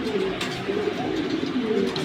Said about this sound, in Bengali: কবুতরগুলো ছটফট করতেছে, কবুতরগুলো এইভাবে খাঁচায় এখনও ঢুকে নাই, এই কারণে এমন করতেছে।